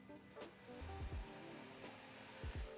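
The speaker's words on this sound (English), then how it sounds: "That light sizzle" Vegan cornbread batter poured into a preheated cast iron skillet brushed with melted vegan butter gives a faint, light sizzle with a few soft low thumps, quiet and without speech.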